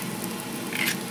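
Bacon grease sizzles in a hot wok, a soft, steady crackling hiss with scattered small pops, heard close and alone.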